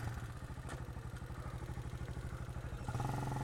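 A Sol Invictus Mercury cafe racer motorcycle engine idles close by with a quick, even putter, warm and running with the choke just switched off, rising slightly near the end.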